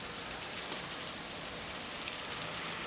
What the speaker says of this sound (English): Right now it's raining a bit.